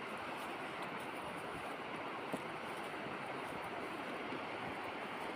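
Steady, broad rush of a river swollen with winter water below a hillside farm in central Portugal, continuous and unbroken with no voices.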